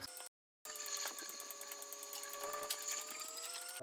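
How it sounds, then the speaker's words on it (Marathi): A milking machine runs in a family cattle shed, milking cows with a steady, faint mechanical hum and whine after a brief dropout at the start, with no talk. "मशीन लावलं दूध काढायला."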